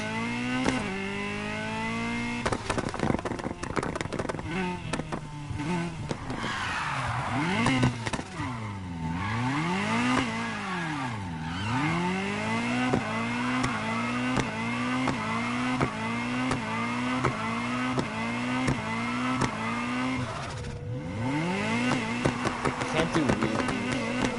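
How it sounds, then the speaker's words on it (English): A video game car's engine revs up and down repeatedly, with loud rising and falling sweeps of pitch and a few sharp drops between pulls, heard alone without talk. "You know what I find legitimately fun about this car? Is that it actually is cool. I mean, listen to the sound of this."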